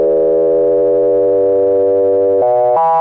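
Sustained analog synthesizer tone from a Kawai 100F, a steady harmonic-rich note whose pitch glides slowly downward and then jumps up twice in quick steps as the VCO is tuned, with no voices.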